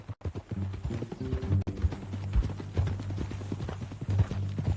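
Horse hooves clip-clop in Red Dead Redemption 2, a close, steady rhythmic trot of repeated hoof strikes, loud and continuous over the whole stretch with no speech.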